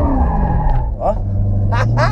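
Corvette engine roaring under hard acceleration with the rear end sliding out, a steady loud drone with rising squealing tones near the end, someone talking over it.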